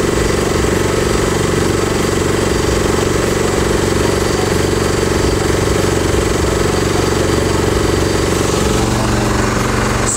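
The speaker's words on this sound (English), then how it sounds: "You hear the pitch of the engine change as it's getting loaded." A Honda-clone 6.5 hp engine drives an alternator in a homemade 12 V generator, running steadily and loud, its droning pitch shifting and dropping near the end as the charging load comes on.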